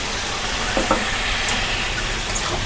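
Mushrooms frying in a pan sizzle steadily as more water is poured in, a constant close hiss with a few faint bubbling pops and no talk.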